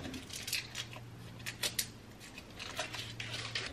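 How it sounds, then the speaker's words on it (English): Cheese is cut into long strips for homemade cheese bread, giving a run of crisp, light snipping and clicking cuts in a soft, uneven rhythm, close and fairly quiet over a low steady hum. "We're gonna cut the cheese."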